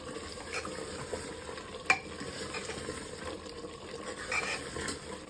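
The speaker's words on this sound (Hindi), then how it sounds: "5 मिनट हो गए हैं पाए को सिरी के गोश्त के साथ भूनते हुए" Mutton trotters frying and being stirred with head meat in a pan: a steady, low crackle of frying with scraping stir strokes and a sharp clink near two seconds, continuous throughout.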